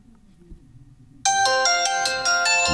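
Ringtone from a Doogee V30T rugged phone's dual stereo speakers, starting abruptly after near silence and playing loud and close as a bright repeating melodic pattern.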